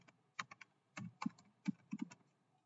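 Computer keyboard keys being typed in short irregular bursts of clicks and clacks, close and fairly quiet, with no talking.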